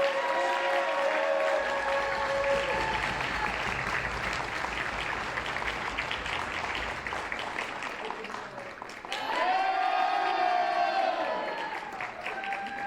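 A crowd claps and cheers steadily for several seconds, with whoops and shouts rising over the applause and a brief dip before swelling again.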